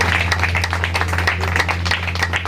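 Audience at a village tribute event for the late poet Keshav Kavi applauding to welcome the chief guest, steady loud clapping from a crowd over a low electrical hum.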